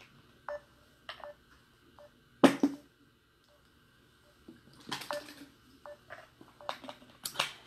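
Telephone keypad tones beep in short separate bursts while a dropped call is redialled, faint and spaced irregularly, with a few louder clicks between them.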